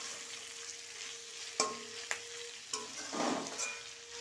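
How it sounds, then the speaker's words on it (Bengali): Tomatoes frying in hot oil give a steady bright sizzle, broken by a few sharp clacks of a utensil stirring the pan and a brief louder burst of crackling near the end. "তেলের মধ্যে আবার টমেটোটা ভেজে নিয়েছি"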